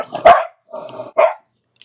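Several pet dogs give three loud, close barks in quick succession, with short gaps between them and no talking.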